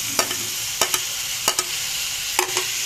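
Fava beans with tomatoes, parsley and pepper being stirred in a hot pan for Alexandrian-style ful: a soft steady sizzle broken by several sharp spoon scrapes against the pan, close and clear.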